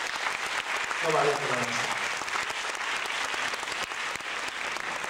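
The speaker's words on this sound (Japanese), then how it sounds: "大先輩になります山室雄二先生に拍手でお送りしてください" An audience applauds a veteran trumpet teacher at a school band exchange concert, a steady hall-filling clap, while someone speaks a short thank-you over it.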